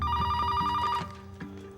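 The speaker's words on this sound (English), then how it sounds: "That phone ringing is among many themes that have stayed consistent throughout the franchise" A telephone ringing in the Scream VI horror movie trailer, a loud bell-like electronic ring that stops abruptly, followed by softer tonal trailer music.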